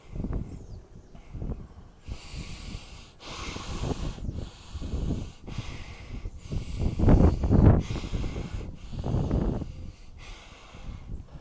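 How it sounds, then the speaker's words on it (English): Slow, deep ujjayi yoga breathing: a steady throat-constricted hiss of drawn-in and released breath, repeated in long cycles close up, with a few snort-like sounds and no spoken words. "When I breathe in the ujjayi, regulating the gross breath"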